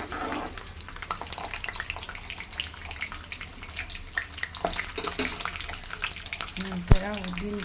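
Peanuts, then split urad and chana dal, frying in hot oil for lemon rice, a steady close crackling sizzle with faint stirring clinks, a brief sharp knock near the end.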